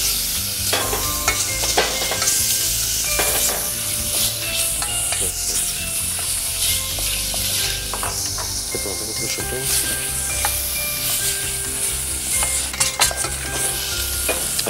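Vegetables sautéing in a pan with ham added, a steady continuous sizzle and frying hiss with occasional stirring scrapes and utensil clinks, fairly close and constant throughout.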